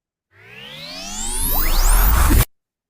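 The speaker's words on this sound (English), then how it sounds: "We have the riser." A synthetic riser swells upward in pitch and loudness for about two seconds, then cuts off abruptly into silence.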